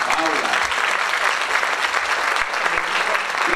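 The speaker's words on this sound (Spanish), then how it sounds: "Recibir con un muy fuerte aplauso a Paula Machado." An audience at an anniversary art and fashion gathering breaks into loud, sustained applause for a television presenter, dense clapping filling the room continuously without pause.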